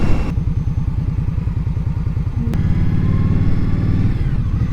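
A 2022 Indian Scout Sixty motorcycle on a test ride, its close, loud engine throbbing with a steady low pulsing beat and rising slightly as the throttle opens.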